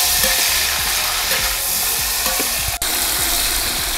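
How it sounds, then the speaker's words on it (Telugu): Tomato pieces frying in a pan for chicken palao, a loud dense sizzle with rhythmic scraping stirs and one sharp knock near the end. "ఇందులో టమాటా ముక్కలు కూడా యాడ్ చేస్తున్నాం. ఇది కూడా మంచిగా ఫ్రై కావాలి."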